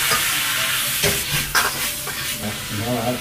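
Cabbage is stir-fried in a hot pan, giving loud, close sizzling broken by several bursts of scraping and tossing.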